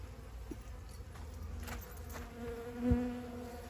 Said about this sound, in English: some of the bees got in it and got stuck